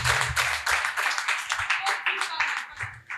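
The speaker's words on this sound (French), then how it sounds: "Acclamons pour Jésus." A church audience claps for Jesus during a prophetic ministry moment, fast rhythmic clapping throughout, fairly close and lively, with a voice speaking over it at times.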